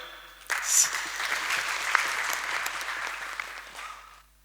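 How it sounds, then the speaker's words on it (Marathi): An audience at a leadership session in Nashik breaks into applause on cue, a sudden burst of many hands clapping that holds steady for about three and a half seconds, then tapers and stops. "टाळ्या वाजवायच्या"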